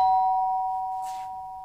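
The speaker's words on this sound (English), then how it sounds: "Just then the doorbell went." A doorbell rings with a sustained, clear electronic tone that holds steady and slowly fades, loud and close in an otherwise quiet room.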